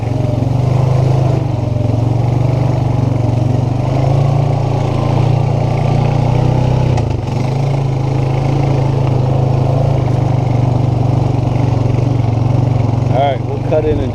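Riding lawn mower engine running steadily at close range, a loud continuous mid-pitched drone with a brief dip midway, a person's voice heard briefly over it.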